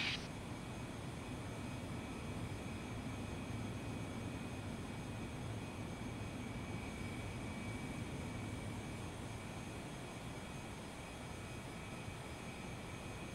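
A light airplane keeps a steady, droning engine rumble as it taxis along the runway after a full-stop landing on runway 20, with a faint whine on top and no other sounds breaking through.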